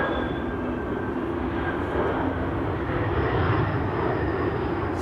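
An airplane arriving on runway 27 produces a steady, loud engine roar with a thin high whine, rising slightly toward the middle and holding throughout.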